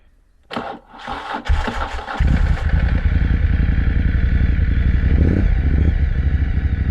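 A motorcycle being readied for a rally clatters and cranks briefly, then its engine catches and settles into a loud, steady close idle.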